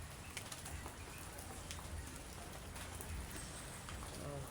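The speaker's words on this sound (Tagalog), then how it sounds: "May patak-patak pa nga oh." Scattered raindrops patter and drip just after a downpour stops, soft, steady and close. Faint birds are heard in the background, with occasional wing flaps.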